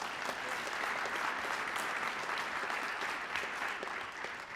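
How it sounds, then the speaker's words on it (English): Dense, steady applause from a crowd at a youth soccer club senior night, many hands clapping at once, somewhat distant and fairly quiet, sustained throughout with no talk. "Round of applause for Emma Calvillo."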